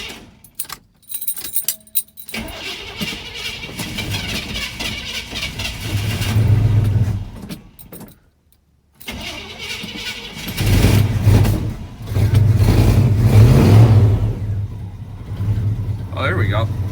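A 1983 Chevy K10 shorty truck that has sat for weeks is cranked by hand, with keys jangling before the engine catches, then revs in loud surging swells with brief drops between, while people talk over it.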